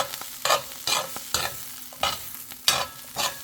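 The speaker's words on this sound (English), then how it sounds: "I want to cook down my chickpeas a little bit more just to have them nice and brown" A chickpea scramble is stirred in a hot pan, with seven or so rhythmic scraping strokes cutting through a low, constant sizzle, close and clear.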